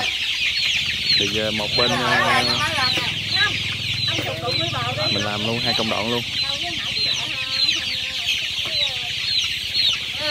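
Dense clucking and peeping from a crowded flock of 24-day-old chicks during cholera vaccination and beak trimming, continuous and close, with someone talking over the flock.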